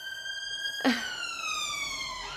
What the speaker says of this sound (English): There's that siren again, right?